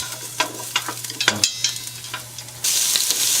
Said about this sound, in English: So turn the heat on to high and just sear the ginger and the garlic.